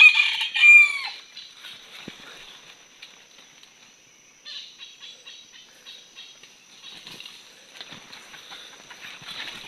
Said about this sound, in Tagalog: Nakahuli tayo. Yung labuyo.